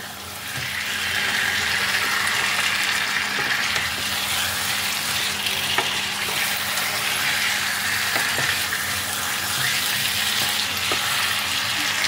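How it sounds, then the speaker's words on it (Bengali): Spice masala without tomato, with five slit green chillies added, fries steadily in a pan for a potato dum, a continuous close sizzle with faint scraping stirs throughout and no talking. "এই সব কিছু দিয়ে মশলার সাথে ভালো করে কষিয়ে নিতে হবে"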